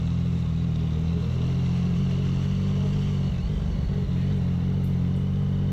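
A Yamaha MT-09 motorcycle ridden off-road at a steady speed, its engine a continuous low rumble that stays loud and close for the whole stretch, with no voices over it.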